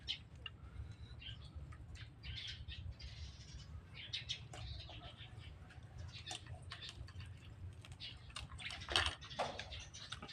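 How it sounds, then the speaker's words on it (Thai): Many birds chirp and twitter in a busy, overlapping chorus, fairly faint, over a constant low rumble, with one brighter call standing out near the end. "โอ้ย มีแต่เสียงนกห้องเลยนะ"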